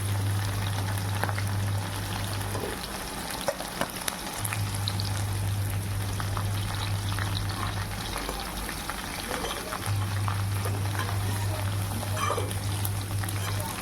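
Cut cluster beans (gavar) fry in an oil-filled pan, producing a bubbling, crackling sizzle with scattered pops over a low steady hum.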